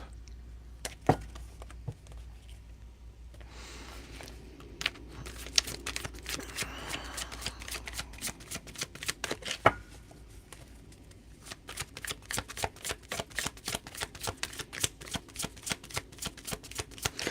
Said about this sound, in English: Let's pull some cards on this.